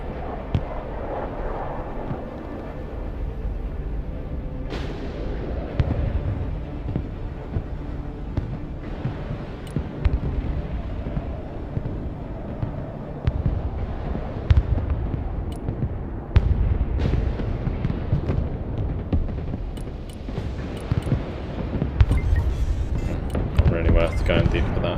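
Missile strikes and explosions in the military strategy game Broken Arrow, a steady stream of booms and blasts at varying distances over a low rumble, with players talking over the battle noise.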